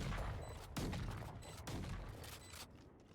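Gunfire in the first-person shooter Valorant: several bursts of rapid shots with thumping impacts, loud and close, repeating at short intervals, with no talk.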